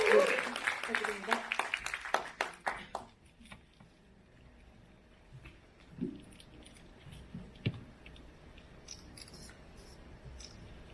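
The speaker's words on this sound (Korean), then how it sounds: "큰 박수로 부탁드립니다" Brief applause from a lecture audience, clapping strongest at the start and fading within about three seconds, followed by quiet room sounds and scattered small noises.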